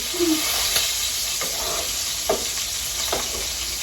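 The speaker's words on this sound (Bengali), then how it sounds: "ইলিশ মাছটা ফার্স্ট আমি ভেজে নিই সুন্দর করে" Hilsa fish frying in a pan, with a steady close sizzle throughout and a few brief scraping or stirring sounds on top.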